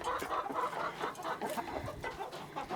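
Backyard laying hens cluck and murmur nearby while being fed chicken, a busy overlapping chatter of soft clucks with no one speaking.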